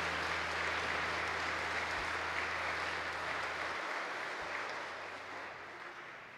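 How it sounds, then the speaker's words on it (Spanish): A concert audience at a Christian trova performance claps for a sustained stretch, a broad steady wash of applause over a low amplified hum that drops out partway through, the clapping slowly fading toward the end. "Fuerte el aplauso para el Señor que está vivo."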